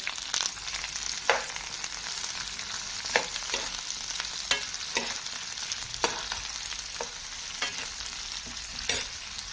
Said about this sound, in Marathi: सर्व कांदा घालून घेऊया कांदा मऊ होईपर्यंत आपण तो फ्राय करून घेणार आहोत